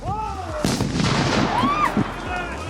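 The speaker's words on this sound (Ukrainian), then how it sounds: "крізь вогонь, дим та звуки вибухів" Sharp blasts and pops go off in quick succession during a military academy cadet training exercise, with whistling tones sweeping overhead and a busy background din between bursts.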